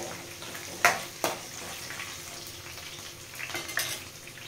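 Fried ingredients for murmure, puffed rice, stirred in a pan: a spoon scrapes and clanks against the metal in a few sharp knocks, with softer scraping and shuffling between them, close by.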